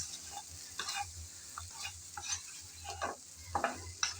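Okra is stirred with a spice mix in a pan, producing quiet scraping strokes and light sizzling in an irregular rhythm, each stir a soft separate burst over a low background hum.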